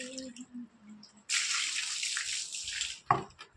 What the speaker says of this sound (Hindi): तो तुलसी माता का जो प्लांट है वो खराब ना हो तो इसमें पानी आप अच्छे से दें।